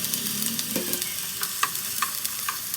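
Sliced onion drops into a hot pan and crackles into a bright, steady sizzle, broken by a few sharp stirring clicks and scrapes. No voice is heard over it.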